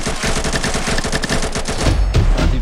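Rapid bursts of sniper and automatic gunfire in the mobile battle royale game Combat Master, loud and dense with rhythmic shots, ending in heavier low booms.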